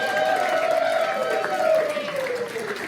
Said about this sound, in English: Let them all hear a round of applause.